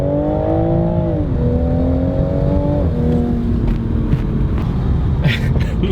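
2020 Toyota Supra accelerating on an open road, its engine note climbing steadily and shifting gears at a few points, a loud, close, continuous drone from inside the car.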